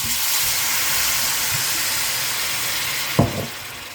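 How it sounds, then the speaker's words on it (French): White wine splashes into a hot pan of browned bacon to deglaze it, a steady broad sizzling hiss that holds loud and even, with a brief sharper burst near the end. "Maintenant on va rajouter 1 décilitre de vin blanc et déglacer tout ça."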